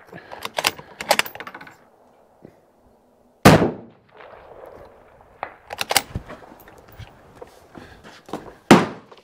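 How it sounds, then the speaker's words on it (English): Bighorn TL3 action rifle with an Inside Arms barrel fired at a 457-meter target, one sharp loud shot with a quick decay amid nearby clicks and handling noises of bolt work. "I'm gonna shoot 457 meters at a fish."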